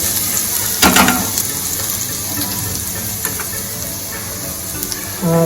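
Cinnamon-clove powder and grated ginger go into hot oil for a whole baby potato curry, giving a loud, steady sizzle throughout with a brief clatter near the start and a light clink at the end.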